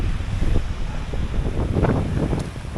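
Strong wind of more than 50 mph buffeting a microphone on a Cumbrian hillside, a loud continuous roar with gusty low rumbling and no clear speech.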